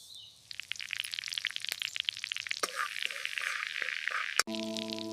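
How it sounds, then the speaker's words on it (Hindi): Cumin seeds tempering in hot ghee for dal, a dense crackling sizzle with sharp pops and spatters, loud and close, with no voices over it, ending in a brief electronic tone. "अब दाल के लिए घी में जीरा तड़का लगाओ।"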